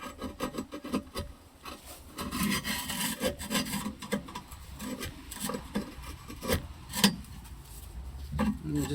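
Old glue is scraped off a wood burning stove during a gasket rope replacement, making continuous gritty rasping and scratching strokes at close range with irregular rhythm and occasional sharper scrapes.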